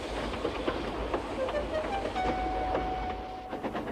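A train rumbles along steadily with faint rhythmic clacking and a thin high squeal rising near the middle, moderately close.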